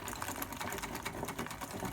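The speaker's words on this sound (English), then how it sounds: "I'll just give that a good old whisk." A strawberry cheesecake mixture is whisked by hand in a bowl, a fast, even, rhythmic rattle of wire strokes close up and without pause.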